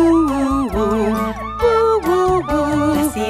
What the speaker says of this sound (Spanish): La sirena del camión hace